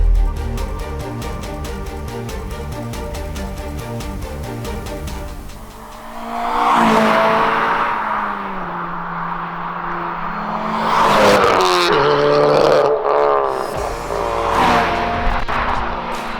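A Honda Civic Type-R FD2 runs with its engine droning steadily, then revs and accelerates through the gears, its pitch climbing and falling in loud, close surges.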